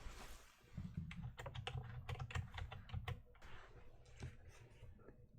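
Fingers tapping out an IP address on a computer keyboard, a steady run of close, crisp keystrokes with brief pauses between bursts and no talking.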